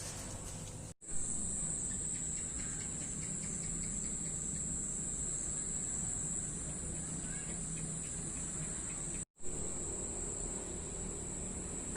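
Dense, continuous chirping of feeder crickets kept for a bearded dragon, a high steady trill that fills the scene, broken by two brief silent gaps.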